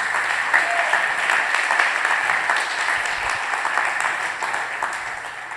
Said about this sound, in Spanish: Ahí va el aplauso para Dios